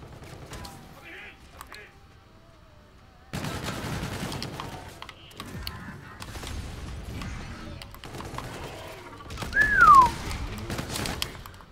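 Gunfire in Call of Duty Infinite Warfare multiplayer comes in sharp bursts of shots and rattling fire mixed with weapon mechanisms and game effects, with a quiet stretch early and a louder burst near the end.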